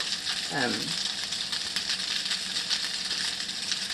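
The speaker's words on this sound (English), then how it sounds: "chop it up and then put it in some more oil and get it nice and translucent" Onion frying in oil for sauerkraut, a steady close sizzle and crackle throughout, with a brief stirring scrape near the start.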